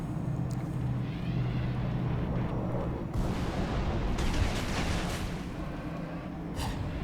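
Halo Reach mortar blasts and gunfire rumble in a low, steady combat din, with a few sharper bursts and crackling volleys rising over it; no one speaks.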